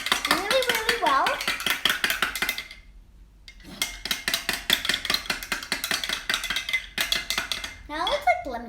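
A spoon clinks rapidly against a glass while turmeric powder is stirred into a ginger and turmeric drink, a bright steady rattle of metal on glass broken by a brief pause, with a voice speaking faintly at the start and end.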